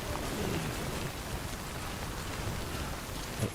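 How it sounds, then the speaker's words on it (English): Rain in the video game Death Stranding, a steady dense hiss of rainfall at even loudness throughout, with no talk. "Oh no, not the rain."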